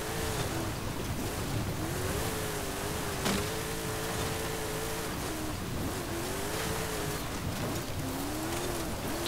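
A 1997 Mitsubishi Montero Evolution accelerates in Forza Horizon, its engine note rising and falling in gear-change sweeps under a dense, hissing wash of road and ambient noise, moderately loud and continuous.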